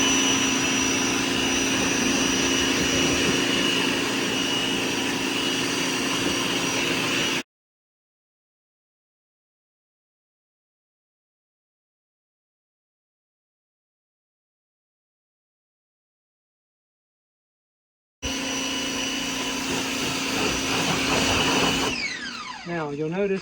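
A Ryobi 1600 psi, 1.2 gpm electric pressure washer spraying soap on a vehicle with a loud, steady motor whine and water hiss. It cuts to a long silence partway through, then resumes.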